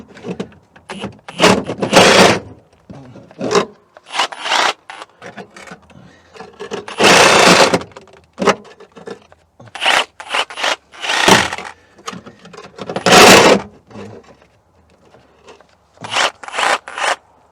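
A cordless Sawzall cuts body panels from a salvage-yard VW Beetle, heard as loud, close bursts of rasping metal cutting that start and stop repeatedly, with short quiet gaps between strokes.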